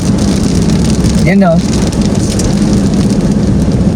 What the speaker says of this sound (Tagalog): Patak na. Bubuhos na siya. Ay, yun na. Ulan na.